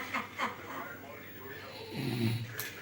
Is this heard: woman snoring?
yes